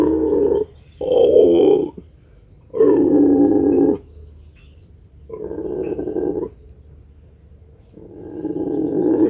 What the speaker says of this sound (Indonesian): Ini suara singa.